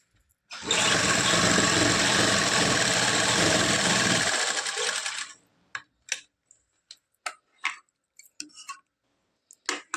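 Sewing machine stitching a belt onto a lined salwar runs in one steady, loud burst for about four seconds, then stops, followed by scattered light clicks and handling taps.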